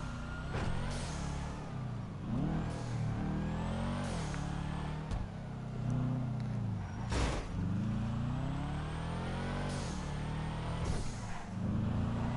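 A car driving and accelerating in repeated surges, its engine rising and falling in pitch over steady road noise. The sound is close and continuous, with no talking.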